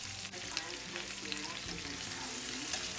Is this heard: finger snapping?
no